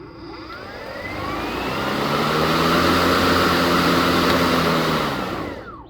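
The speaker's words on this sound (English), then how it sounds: "Starting the mower, all you need to do is push this yellow button in and pull your" An EGO 56v Select Cut XP cordless battery lawn mower starts up, its whine rising in pitch into a loud, steady whirring hum of the spinning blades that then fades slightly, with no talking.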